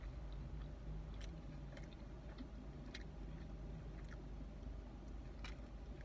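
A bacon burger is chewed close to the mic over a steady low rumble, with a few soft, scattered crunchy bites breaking through at irregular intervals.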